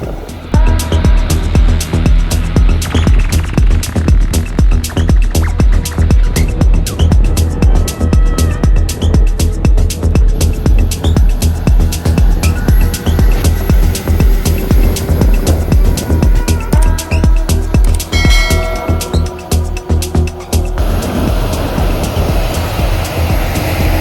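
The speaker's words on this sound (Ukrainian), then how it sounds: "Класна робота агрегата по стерні." A tractor-drawn cultivator works wheat stubble heavy with plant residue, giving a loud, steady engine drone with continuous low rumble and rattling implement noise throughout, close and sustained with no talk.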